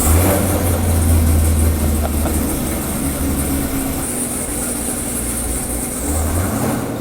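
A rear-engine street race car runs at a steady, deep idle, its heavy low rumble continuous throughout and swelling slightly at the end, with faint hiss and wet background noise from pouring rain.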